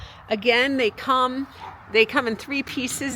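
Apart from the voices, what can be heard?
small dogs barking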